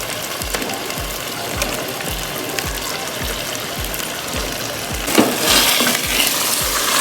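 Lightly fried fish pieces cooking in masala for fish korma, a steady close sizzle under a rhythmic low thumping, with a louder splattering burst near the end as the fish goes in.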